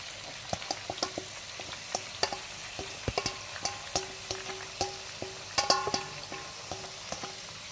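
Minced meat (qeema) goes into a pan of frying bitter gourds, a low sizzle beneath a run of sharp, irregular spoon clinks and scrapes against the pan, close and moderately quiet, with no talking.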